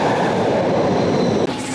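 Subway train running at steady speed, a loud continuous rumble and rail roar heard from inside the car, with a brief dip near the end as the noise shifts.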